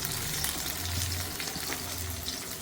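Baby corn frying in a pan for chilli baby corn, a constant soft sizzle with light stirring and bubbling, fairly quiet and uninterrupted.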